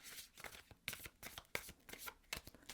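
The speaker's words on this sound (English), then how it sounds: "So we'll do one more shuffle." A deck of tarot cards is shuffled by hand, giving a quick run of crisp riffling bursts and soft slaps in an uneven rhythm, close and clear, with no talking.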